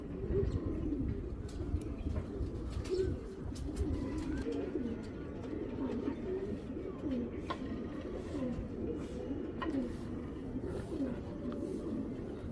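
Racing pigeons in a crowded loft keep up a continuous low chorus of overlapping coos and burbles, steady and dense throughout, with occasional faint chirps.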